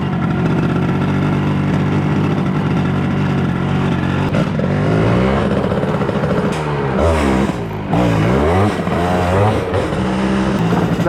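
A motorcycle ridden back from a river after its wheels went into the water, engine loud and steady throughout, with rising and falling revs as it accelerates and shifts, close and dominant.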